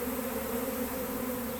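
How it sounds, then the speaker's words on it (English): A swarm of honey bees buzzes all around at close range, a continuous droning hum with no pauses. "you can't imagine how many bees are all around me right now."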